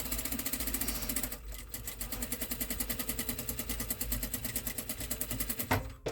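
A domestic sewing machine runs fast and steady, stitching fabric to the end of a seam while making a Christmas craft, with a dense even rattle of needle strokes, close and loud, pausing briefly near the end.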